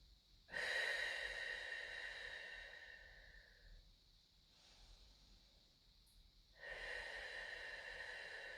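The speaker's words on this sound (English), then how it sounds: "let's take some nice deep breaths" Deep, steady breaths drawn during a pregnancy mobility workout, two long breathy stretches with a softer pause between, close and fairly quiet with no talking.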